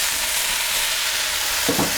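Beef and chilies stir-fry in a hot wok with a steady, bright sizzle, and a couple of louder scrapes and tosses come near the end.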